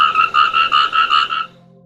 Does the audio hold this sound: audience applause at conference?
no